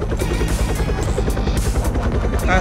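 A police helicopter lands in the Roblox game, its rotor giving a loud, steady rhythmic chop with a constant low drone throughout.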